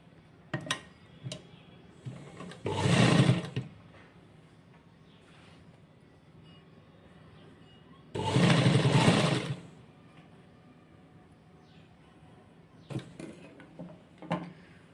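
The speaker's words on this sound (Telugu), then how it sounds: "ఇప్పుడు మళ్ళీ దీనిపైన ఇంకొక కుట్ట అనేది వేసుకుందాం" A sewing machine stitches a fabric sleeve in two short bursts of running, separated by a quiet pause with a few faint clicks and handling noises.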